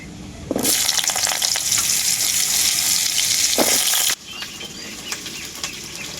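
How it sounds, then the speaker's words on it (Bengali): Pieces of pointed gourd fry in hot oil in a pan, giving a loud, close, steady sizzle with brief stirring scrapes and a sudden drop in intensity near the end. "এরপর আমি ওই তেলের মধ্যেই পটলগুলোও ভেজে নেব"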